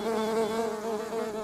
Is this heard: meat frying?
no